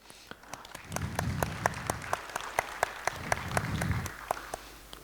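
Audience applause at a regional school forum after a student music performance, a steady patter of many hands with a few loud distinct claps nearby and low murmuring voices underneath.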